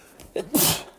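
A single close sneeze, a short intake of breath followed by a sharp burst, with nothing else around it.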